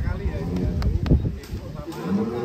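A giant cow weighing about 1.3 tons gives a low, deep moo under crowd noise at a livestock show, with people chatting around it.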